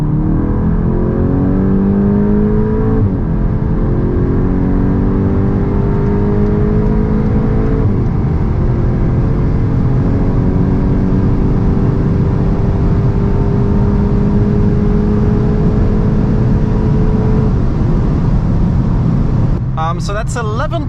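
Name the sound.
Golf 8 GTI Edition 45 accelerating from 100 to 200 km/h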